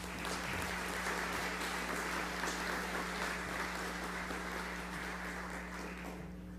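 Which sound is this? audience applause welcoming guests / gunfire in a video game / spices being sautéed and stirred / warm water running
audience applause welcoming guests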